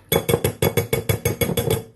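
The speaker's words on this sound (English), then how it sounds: "I'm going to give the whisks a bang on the side of the glass" Metal whisks knock against the side of a glass bowl in a rapid run of about ten loud, evenly spaced clinking strikes, close up and with no talking.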